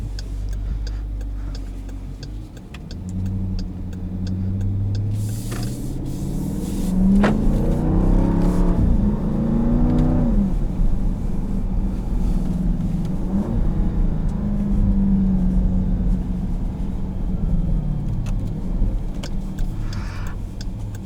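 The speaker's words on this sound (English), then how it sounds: "just the sound alone of this thing is better than any other SUV I've ever driven" A 2018 Dodge Durango SRT 392 SUV engine revs up with a deep, steady rumble that rises and falls in pitch, loud and close, with no talking.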